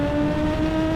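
A Kawasaki Z H2 supercharged roadster engine howls at high revs, a loud steady tonal whine and roar heard up close for a brief moment.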